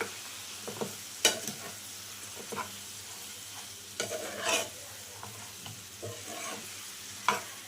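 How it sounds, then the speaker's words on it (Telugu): Mutton pieces frying in a pan over high flame are stirred with scattered scrapes and clatters at irregular intervals, over a steady low sizzle; no one speaks. "కొంచెం హై ఫ్లేమ్లో పెట్టుకొని ఈ మటన్ అంతా మొత్తం కలుపుకోండి."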